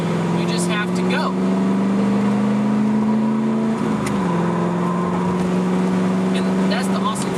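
A 1999 Pontiac Trans Am with a six-speed manual hums steadily, then dips and blips its revs in a quick rev-matched downshift. Someone talks over the engine drone.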